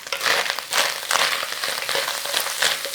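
Beef sizzling and browning in a hot pan, a steady crackling fry with bursts of louder spitting, close and continuous with no talk.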